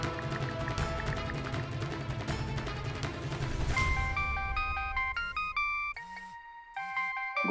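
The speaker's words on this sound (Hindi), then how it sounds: "गुड्डू का फोन।" A bright electronic ringtone melody of beeping tones starts partway through, loud and near, after a stretch of busy clattering noise.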